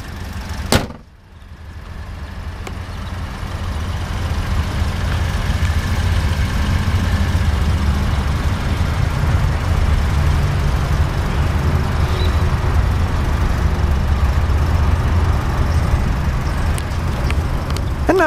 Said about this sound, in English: a couple of revs of that little inline 4-cylinder engine